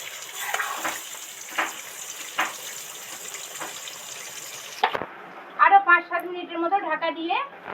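Potatoes and pointed gourd fry in a pan with a faint, steady sizzle and a few soft clinks, then a person starts talking over the cooking near the end.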